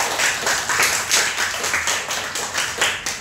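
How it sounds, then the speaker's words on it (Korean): A church congregation at a Sunday service claps in welcome, a steady run of many hands applauding together, moderately loud and filling the room, with no talking over it. "오늘 박수로 환영합니다."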